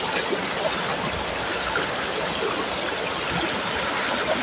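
Water flows steadily in a stream, a continuous rushing babble with no voices.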